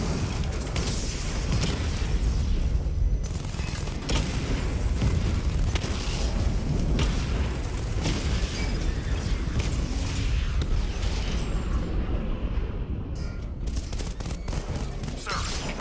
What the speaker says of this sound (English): Your 60mm cannon will penetrate these heavily armored units, but it'll take a few direct hits to destroy them.